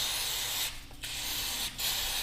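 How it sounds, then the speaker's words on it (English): Brake parts cleaner is sprayed onto a Stihl chainsaw carburetor in short, close aerosol hisses: a long spray, a brief pause, then more spraying with another short break. "clean off everything really well with brake parts cleaner"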